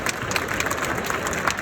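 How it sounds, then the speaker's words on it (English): An audience at a sustainability conference gives warm applause for a speaker joining the stage, a brief stretch of even, crackling clapping with faint cheering. "Please give him a warm applause."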